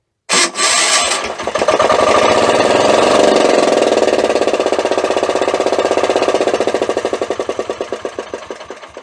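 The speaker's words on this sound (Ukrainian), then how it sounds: "Соляра летить, ну заводиться отлично." A diesel engine on an МБ2091Б cranks and fires up after fuel injection pump and injector replacement, then runs loud and close with a fast, even knocking chug that settles into a rhythmic idle.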